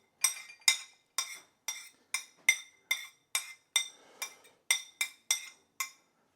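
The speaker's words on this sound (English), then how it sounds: "Let's prepare a bigger bowl so that we can mix all the dipping ingredients together." Utensil or spoon clinking against a bowl while coriander, chili and ginger dipping sauce is mixed, about a dozen evenly spaced bright clinks in steady rhythm, close and fairly quiet with no talking.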